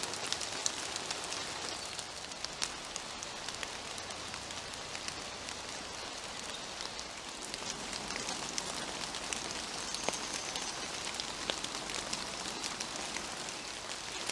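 Gentle rain falls in quiet woods, a soft steady patter of drops on leaves with scattered, sharper close drips and no voices.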